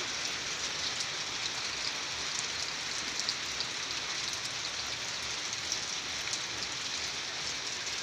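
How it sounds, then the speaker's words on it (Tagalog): Steady, dense rainfall pattering on surfaces, a constant hiss with scattered drops, unbroken and moderately loud throughout. "Ulan na"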